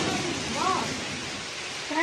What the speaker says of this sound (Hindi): बहुत बारिश हो रही यार।